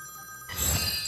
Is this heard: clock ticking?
no